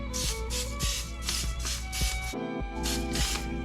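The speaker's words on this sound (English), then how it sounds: "So I'm spraying some Pam spray on it as opposed to rubbing it with oil." Pam cooking spray is sprayed in short repeated bursts onto food while cooking in an RV kitchen, each hiss close and crisp, with low background hum between them.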